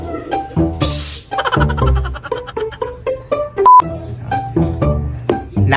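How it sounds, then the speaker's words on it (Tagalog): A telephone beeps out a string of short dialing tones in steady succession, close and clear, with light background noise in between. "tatawagan ko muna si Mama Lala"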